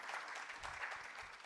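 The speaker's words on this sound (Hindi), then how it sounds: "एक बार ज़ोरदार तालियां नैशत जी के लिए" Audience applause for a guest speaker at a panel discussion on cinema and society, a steady wash of many hands clapping at moderate, fairly distant level throughout.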